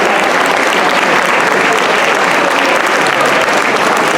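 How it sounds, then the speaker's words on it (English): A large crowd at a community meeting claps loudly and continuously, dense applause filling the whole stretch without pause. "Let's give them a round of applause."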